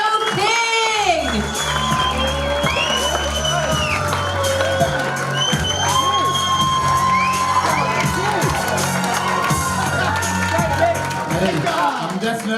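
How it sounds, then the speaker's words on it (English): A comedy club audience cheers, whoops and shouts as a stand-up comedian is welcomed at a live competition heat, a loud sustained crowd roar with scattered high yells and clapping running the whole way. "So let's start the applause. Let's get louder, louder, so we can cheer him."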